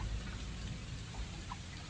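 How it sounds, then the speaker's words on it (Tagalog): Heavy rain pours down steadily with gusting wind at night in a mountain area, a dense, continuous roar close by with no voices. "Malakas na po ang ulan. Tsaka po hangin."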